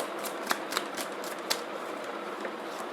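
Tarot cards are shuffled and drawn in a few quiet, sharp flicks and riffles, close and soft, with no talking.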